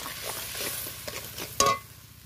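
Fried fish stirred in a pan with spices: a soft, steady sizzle broken by light scraping and clattering strokes, with one sharper clink near the end.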